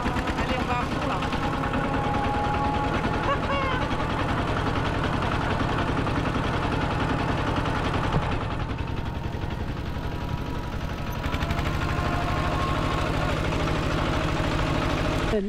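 A scooter engine revs at full speed on a ride in Laos, a continuous buzzing motor drone with wind rush, steady and fairly close, with a brief dip partway through.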